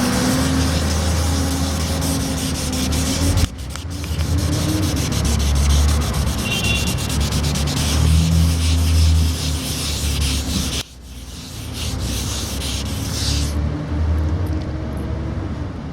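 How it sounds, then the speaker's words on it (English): Hand wet sanding of a rust spot on a car body with fine 1000-grit sandpaper, a steady near scratchy rubbing in continuous strokes with brief breaks, no voices. "So keep it wet as you're sanding, and don't press"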